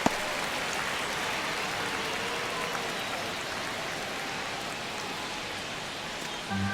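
A baseball stadium crowd at a Yankees versus Astros game in the ninth inning of a one-run contest gives off a steady, dense wash of murmur and noise that holds constant throughout.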